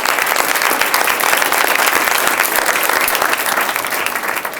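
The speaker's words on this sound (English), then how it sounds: "Please give all of our sponsors a loud round of applause." Loud, sustained applause from an audience at the Kidspeak 2018 event in Grand Rapids, thick continuous clapping from many people that tapers slightly toward the end.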